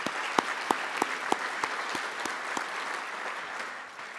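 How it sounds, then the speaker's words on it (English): A crowd at a city's state of the city address applauds the city council in a sustained, even round of clapping. A few louder individual claps stand out near the start before the applause slowly fades. "Let's give the council a big round of applause for that."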